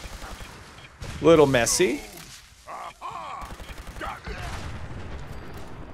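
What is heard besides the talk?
Ultracite laser rifle firing in video game Fallout 76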